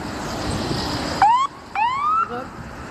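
An ambulance siren wails in rising sweeps, two clear up-swooping tones over steady road rumble as it passes in traffic near a car.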